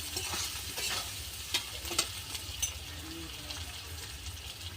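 Onion and tomato masala for egg do-pyaza is sautéed and stirred in a hot pan. A close, steady sizzle runs under spatula scrapes, with a few sharp clinks against the pan.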